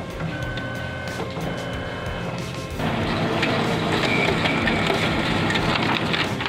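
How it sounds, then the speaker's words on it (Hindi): A Xerox 5855/5875 photocopier runs a copy after a fuser warm-up fault is repaired, giving a close, steady mechanical whir and rattle that grows louder and busier partway through. "अभी कॉपी भी करके देख लेते हैं कि हीटर ठीक तरीके से काम कर रहा है या नहीं"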